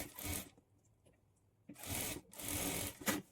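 A sewing machine stitches a folded half-inch hem on a plain blouse sleeve edge, running in two close, steady bursts separated by a short pause.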